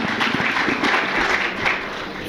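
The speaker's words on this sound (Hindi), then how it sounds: "आपको एक ताली तो बजानी चाहिए" Students clapping together at a career counseling workshop in a technical institute hall, a steady wash of applause held at even loudness for a couple of seconds.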